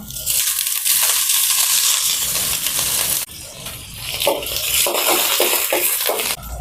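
Shallots, spices and curry leaves frying in hot oil for a dry-style chicken dish, a loud continuous sizzle and crackle with occasional clinks of stirring, no talk.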